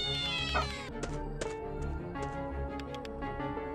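A cat meows in a video game, a few clear stretched harmonic cries near the start, followed by game music and soft ticking sounds with no talking.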